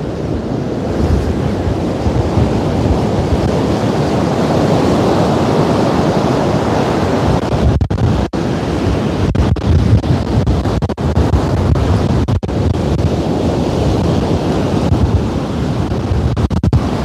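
Strong wind blows sand across a beach, a loud, constant roar of gusts and buffeting against the microphone mixed with the wash of surf, with no voices.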